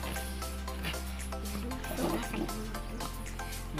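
Water used to boil duck meat being poured off, a steady trickling and splashing close by over a low hum, running for a few seconds without speech.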